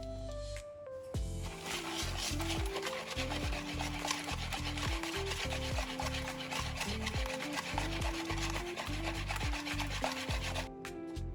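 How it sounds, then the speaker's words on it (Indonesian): Black glutinous rice flour batter with baking powder and emulsifier is stirred by hand, producing continuous rhythmic scraping strokes against the bowl that run steadily throughout, with background music playing underneath. "aku sekarang mau aduk sampai pucat"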